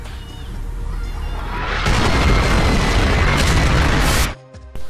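An explosion sound effect for a motion-tracked CGI visual effects shot, a loud rumbling boom that swells and roars for a few seconds before cutting off sharply.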